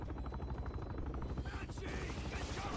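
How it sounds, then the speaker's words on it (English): A helicopter in Bulletstorm throbs with a steady, fast rotor pulse under game noise and bursts of gunfire, with a voice talking over it. "I'm gonna see if I can kill that guy in the helicopter"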